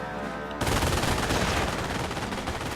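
MG-42 machine gun fire from the Company of Heroes video game breaks out suddenly after a short lull and runs as a loud, dense, continuous burst of rapid shots to the end.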